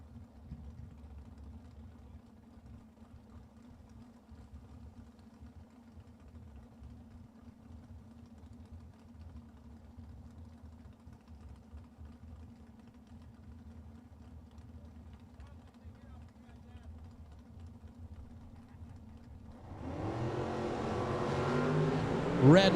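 Drag-racing cars, a 2018 Camaro and a Gen 1 Camaro, idle at a Las Vegas bracket-race start line with a steady low rumble for about twenty seconds, then one engine surges loudly near the end.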